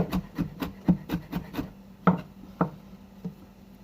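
A knife chops and minces fresh ingredients on a cutting board for shrimp lo mein, with a quick run of close, rhythmic taps followed by a few slower, separate strikes.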